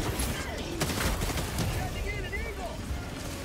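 Suppressing gunfire in the video game Helldivers 2: a dense, noisy rattle of shots and booms with someone talking over it throughout.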